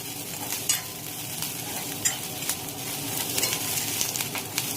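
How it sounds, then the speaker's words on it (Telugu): Tempering spices fry in oil in a pan while being stirred, a continuous close sizzle broken by repeated scraping spoon strokes. "చక్కగా వేయించింది కదా ఇట్లాగా."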